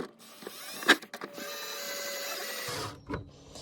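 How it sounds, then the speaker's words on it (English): A power screwdriver drives screws into the protector of a Traxxas Xmaxx RC truck, giving a faint, short whirring buzz with a click and a brief second burst, recorded close and quiet. "So now it's just time for screwing the screws back in."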